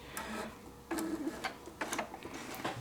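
A sewing machine stitches a quilted, foundation paper-pieced mug cozy in short, uneven bursts of rapid mechanical clatter separated by brief pauses, fairly quiet and close, with no talking.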